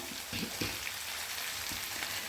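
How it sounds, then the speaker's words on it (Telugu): Washed, drained moringa leaves hit a hot pan for a tomato curry, giving a steady close sizzle with scattered pops and crackles. "ఇప్పుడు మునగాకు ఇందులో వేసుకుందాము"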